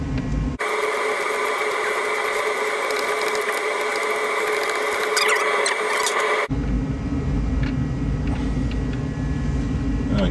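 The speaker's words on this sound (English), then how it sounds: "Finally got that castle nut off." A 7/8 socket and ratchet loosen a rusted castle nut on the torsion arm of a Dodge Aspen or Plymouth Volare front end: a steady metallic grinding, clicking stretch up close, then a change to a lower rumbling noise.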